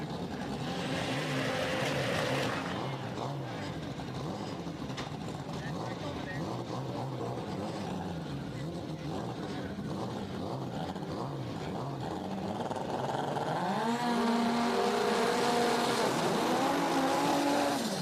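Honda drag race cars at a track rolling into the lanes and launching, a continuous loud engine roar that rises sharply near the end, with an announcer talking throughout.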